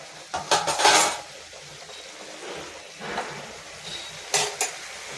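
Vegetable curry of pumpkin, beans, carrot, potato and green chilli with nigella and five-spice, made without onion or garlic, is cooked in a pan: a few close metallic clinks and scrapes of a spoon against the pan, separated by a quiet sizzle.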